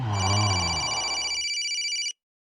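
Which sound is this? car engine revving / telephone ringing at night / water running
telephone ringing at night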